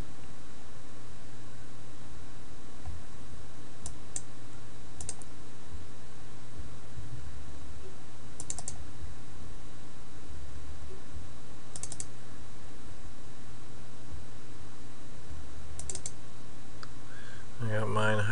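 A computer mouse gives a handful of sharp, isolated clicks spread across a quiet stretch with steady background hiss, close and distinct, while someone talks nearby.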